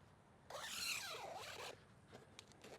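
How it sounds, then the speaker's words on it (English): A zipper on an RV cover is pulled down in one steady rasping stroke lasting about a second, close and moderately quiet, followed by a few faint clicks and rustles. "Zip it down."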